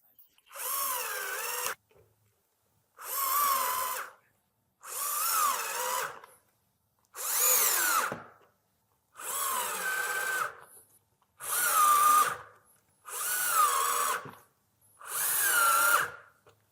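Power drill driving screws into a melamine surface, eight separate bursts of whining motor and grinding bite, each about a second and a half long, separated by short silences, loud and close.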